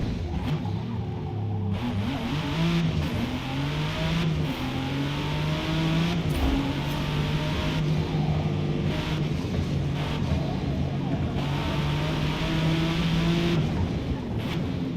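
A race car engine in the video game Forza roars and revs continuously, pitch climbing and dropping through gear shifts, loud and steady throughout with no talking.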